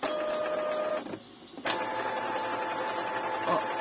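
An Epson L3110 printer running its automatic head cleaning cycle makes a close mechanical whirr and grind that drops off briefly, then resumes steadily with faint clicks.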